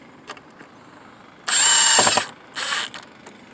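A power drill drives screws into a wooden pallet workbench being reassembled, with a loud whirring burst of about three-quarters of a second followed by a shorter second burst, close by and with no talk.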